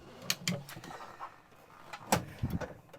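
A large pan drawer in the kitchen of a 2024 Adria Twin Sport 600SX caravan slides and knocks shut, giving a few close clunks and rattles, with a quieter bump earlier and soft movement noise in between.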